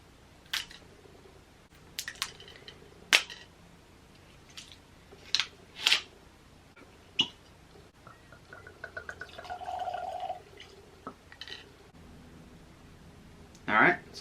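Jack Daniel's Twice Barreled whiskey opened and poured: a series of sharp, close clicks and taps from the bottle and glass, a short stretch of liquid trickling midway, and a final brisk pour or clink at the end, with nothing else in a quiet room.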